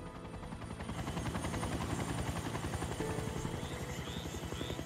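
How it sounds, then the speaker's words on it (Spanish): A rescue helicopter arrives over a swamp crash site, its rotor chopping steadily and loud throughout, a dense pulsing thrum with engine whine layered on top. "el ruido del helicóptero nos llenó de alivio porque supimos que nos habían encontrado"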